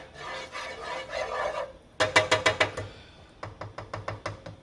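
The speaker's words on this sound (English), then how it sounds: "I'm just going to get a little bit of this bacon grease out of here." A spoon scoops bacon grease out of a container, first with a rough, rasping scrape, then with two quick runs of sharp, evenly spaced taps close up.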